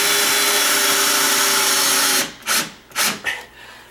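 A power driver runs a screw steadily through a door hinge into a wall stud for about two seconds, then stops, followed by a few short bursts and knocks up close.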